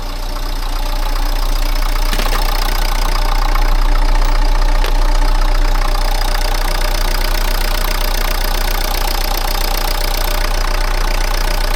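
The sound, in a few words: Renault Kangoo engine started and idling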